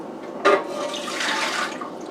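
Warm water, one and a half cups for pretzel bun dough, poured into a bowl in a short splashing burst followed by a brief trickle, close and fairly quiet.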